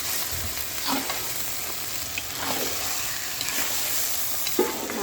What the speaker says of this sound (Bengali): মাছটা এইভাবে প্রথমে কষাই নিতে হবে।